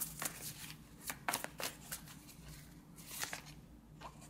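Tarot cards are shuffled and drawn in a quiet room, giving several soft papery riffles and slaps spread irregularly across the moment at close range.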